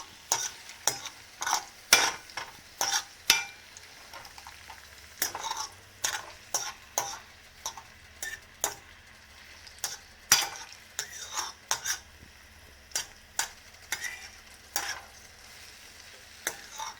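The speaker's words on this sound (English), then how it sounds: "our oil starting to bubble, we're going to go ahead and put our shrimp in" Shrimp brown in bubbling oil in a pan, a soft steady sizzle under frequent sharp clinks and scrapes of a utensil stirring against the pan, with no talking.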